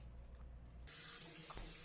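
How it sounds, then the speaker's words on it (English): Cold water from a kitchen tap runs steadily over an onion being rinsed, a continuous close hiss and splash that starts suddenly partway through after a quieter stretch. "I do like to rinse it in cold water because of all the dirt that was on it"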